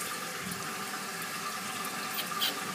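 A toilet tank refills through a new fill valve after the water supply is turned back on, giving a steady, close rushing and hissing of water that stays even throughout.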